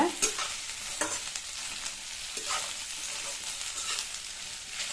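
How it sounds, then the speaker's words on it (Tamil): Taro root (colocasia) fries in hot oil over a high flame, crackling and sizzling loudly up close while a spoon stirs it in periodic scraping strokes. "சேப்பங்கிழங்கை சேர்த்துட்டு நல்லா எண்ணெயிலேயே ஹை ஃப்ளேமில் வச்சு 2லிருந்து 3 நிமிஷம் நல்லா வதக்கிக்கங்க"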